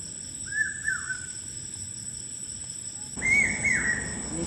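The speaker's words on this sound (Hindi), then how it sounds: "देखो रात को कोयल कहाँ बोलती है।" Asian koel calling at night, two clear bursts of rising-falling whistled notes separated by a quiet gap, set against a constant background of crickets and insects.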